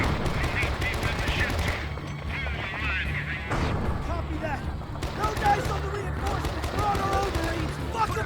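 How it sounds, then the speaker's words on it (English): Bursts of M60 machine gun fire in the game Men of Valor, rapid rattling volleys mixed with other gunshots and battle noise, loud and dense, with voices shouting over the fighting. "M60, a beast of a weapon."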